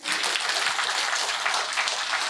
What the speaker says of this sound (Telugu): ఈరోజు మనకు జ్ఞానదాతగా వచ్చినటువంటి శ్రీహరి తిరునగరి గారికి గట్టిగా చప్పట్లు కొడదాం ఒకసారి